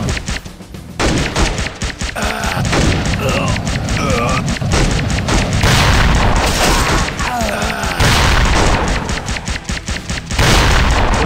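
Dense, rapid gunfire crackles continuously alongside booms and game sound effects in the video game Metal Commando, loud and chaotic throughout.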